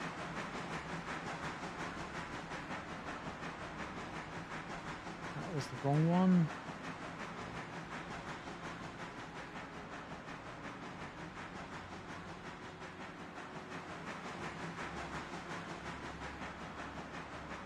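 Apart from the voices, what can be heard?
steam train engine running on the rails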